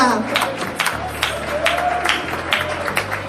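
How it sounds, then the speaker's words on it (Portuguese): Church congregation clapping during a Portuguese-language sermon, a short burst of rhythmic hand claps over a sustained keyboard chord, with the preacher's voice heard over it. "Pode dar glória a Deus com as palmas, igreja"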